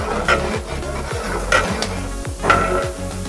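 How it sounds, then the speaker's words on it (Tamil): Onions fry in oil for Vaniyambadi mutton biryani at a restaurant kitchen, a steady sizzle broken by rhythmic scraping and stirring strokes against the pan, close and fairly loud with no talking. "ஆனியனோட ஸ்மெல் வந்து ஆயிலில் ஃப்ரை ஆகும்"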